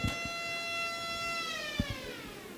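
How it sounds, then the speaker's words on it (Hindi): A homemade siren built from an ordinary spinning fan with holes, made in a lab, gives a steady rising-then-falling whine as the fan speed changes, heard alone with a couple of soft thumps. "वहां पर वो सायरन बना रहे हैं"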